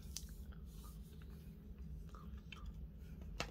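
A white chocolate macadamia nut cookie being chewed up close, soft crunchy bites repeating at a steady pace over a low background hum, with no talking.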